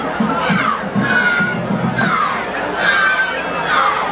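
Spectators at a 2003 Norristown versus Phoenixville homecoming high school football game, a steady crowd roar with children shouting and cheering rising and falling throughout, loud and continuous.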